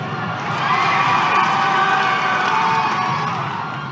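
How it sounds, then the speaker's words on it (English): A crowd roars in approval as a sound effect in a Star Wars audiobook scene, a dense sustained wall of cheering voices that swells and holds steady for several seconds before easing slightly. "The crowd roared its approval."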